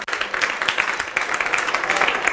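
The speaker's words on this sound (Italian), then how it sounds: "L'applauso della tribuna all'indirizzo di Pepe." Spectators in the stands at a Nocerina versus Melfi football match applaud a substituted player, a short burst of scattered clapping from a crowd, moderately loud and fairly even.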